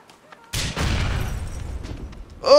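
Rocket explosions in the video game GTA IV: a heavy, loud blast with a sustained rumbling tail lasting about two seconds, followed by another sharp burst at the end.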